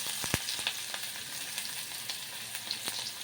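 Mustard seeds and onion fry in hot oil in a pan with a continuous bright sizzle, dotted with sharp pops and crackles from the seeds, close and alone with no voices.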